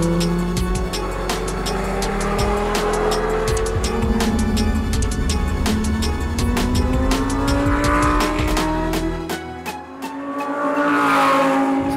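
A Lamborghini Huracan Evo at speed on a racetrack, its engine note rising steadily through the gears with brief tire squeal, loud and close throughout, easing momentarily near the end before surging again.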